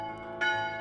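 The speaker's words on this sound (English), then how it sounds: "Have you ever heard a church bell in the morning in the woods?" A single church bell strike rings out, its clear metallic tone swelling suddenly and sustaining with rich overtones into a lingering hum, alone and fairly close.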